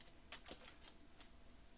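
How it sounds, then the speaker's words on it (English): A few quiet clicks of typing on a computer keyboard, scattered keystrokes over a low background hum, close but faint. "I'm also going to do another typing reply"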